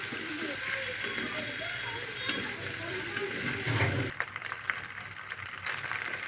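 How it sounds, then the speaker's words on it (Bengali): Pasta seasoned with soy sauce is stirred in a hot pan, giving a steady sizzle with scraping and rattling stirs close up. The sound drops off sharply near the end, leaving lighter clatter. "স্বাদ বাড়ানোর জন্য একটু সয়া সস দিয়ে দিলাম পরিমাণ মতো, দিয়ে একটু ভালো করে নাড়িয়ে নিচ্ছি"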